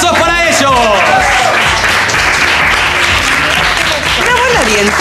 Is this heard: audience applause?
yes